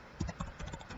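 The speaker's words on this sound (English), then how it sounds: "I'll just type in" Keys tapped on a computer keyboard while entering a new event in a software app, a few quick close clicks in a short burst.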